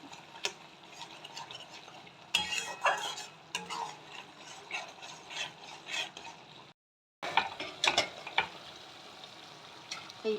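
Green tangra fish curry cooks down in a pan, giving a soft sizzle broken by irregular scraping and stirring clicks of a spatula, with one short gap of silence partway through; no voices.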